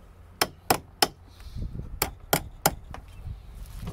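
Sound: tapping metal with a big ratchet

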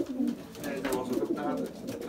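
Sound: Belgian racing pigeon cooing

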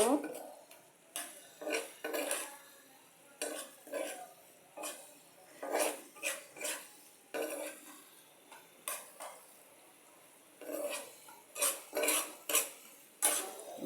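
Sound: stirring and frying spice masala with green chillies in a pan

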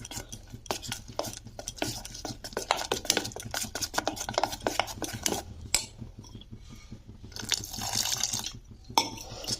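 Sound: stirring thick batter for pumpkin fritters

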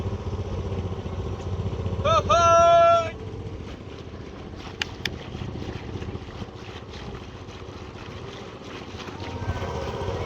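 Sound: motorboat racing on Dharoi Dam

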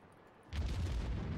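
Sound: naval artillery gunfire in the World of Warships video game

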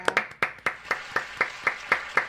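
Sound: audience applause

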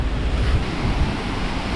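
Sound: wind and ocean surf on the beach at Itapema

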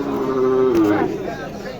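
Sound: cattle mooing at a cattle market

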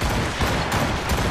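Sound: ship cannons firing in the video game Assassin's Creed Rogue

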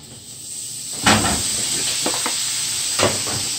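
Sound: shrimp fried rice sizzling in a pan

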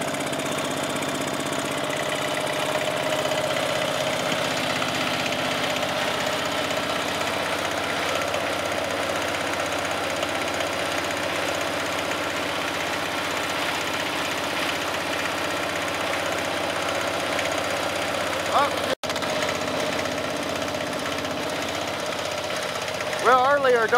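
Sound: Onan 3.0 DJA diesel generator running

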